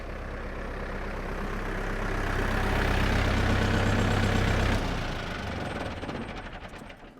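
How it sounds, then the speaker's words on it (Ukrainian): A farm tractor engine idles and runs loudly and close with a steady low throb, then cuts out near the five-second mark, leaving a fading mechanical rumble and rattle. "Зараз трактор трохи постив, заглушу."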